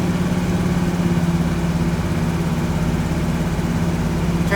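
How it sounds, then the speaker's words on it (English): An old Squarebody Chevy engine runs loud and close, idling roughly. It holds a low, steady, throbbing rumble all the way through, with no voices over it. "I'm amazed that that motor"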